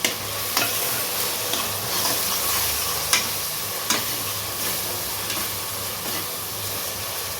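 Small onions sizzle and fry steadily in a pan for a mutton kurma, a constant loud hiss with a few faint scrapes of stirring and no talking.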